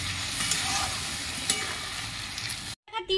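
Fish curry masala with salt and a splash of water sautés in a pan, a steady close sizzle broken by stirring scrapes, then cutting off abruptly before a brief renewed hiss.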